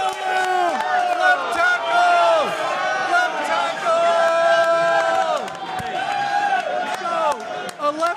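Crowd at the NFL Draft reacting to a pick, a loud sustained roar of many voices with shouts and cheers rising and falling throughout, close and dense with overlapping yells.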